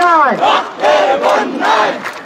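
Students chant protest slogans in unison at Shahbag during the quota movement, a loud close crowd shouting rhythmic repeated phrases in three or four surging bursts.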